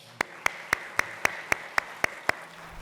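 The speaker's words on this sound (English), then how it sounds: "give our students a round of applause" Steady, evenly spaced hand claps ring out for students at a student panel event, about nine sharp claps in a slow, regular rhythm, close and fairly faint over a quiet room.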